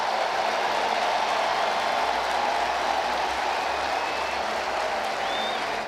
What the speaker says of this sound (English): Let's listen to the crowd as Skenes departs his first major league game.